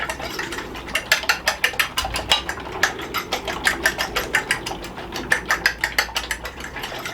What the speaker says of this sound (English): I'm going to whisk these eggs